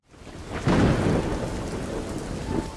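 Rain showers down with rolling thunder in an animated film, a loud steady downpour with a deep thunder swell building partway through, and no voices.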